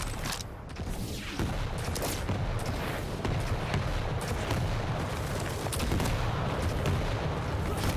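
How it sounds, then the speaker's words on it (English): Rocket launcher fire traded between two players in a Quake 1v1 championship match: continuous explosive booms and gunfire bursts overlap densely, loud and close, with no pause throughout. "Rockets trading back and forth"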